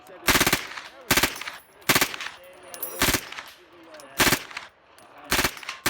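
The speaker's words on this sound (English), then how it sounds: "Barrett M107 50 caliber anti-material rifle." A Barrett M107 .50 caliber anti-materiel rifle fires six loud, sharp shots spaced about a second apart, each a heavy crack with a ringing tail, at close range between faint background murmurs.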